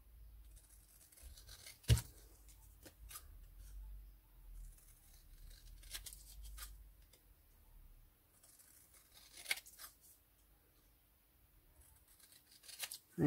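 Scissors snip through a small paper image from a craft pad, producing quiet, sparse crisp cuts spread across a near-silent tabletop scene, with a few louder clicks and rustles.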